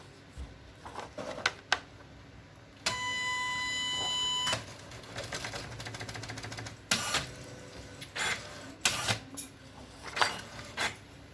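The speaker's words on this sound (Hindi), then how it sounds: "अब ऑन करते हैं प्रिंटर को दोबारा से।" An Epson PLQ 20 passbook printer switched on and running, with a steady mechanical whir and tonal hum from its startup routine followed by clicks, ticks and short bursts of carriage and feed movement.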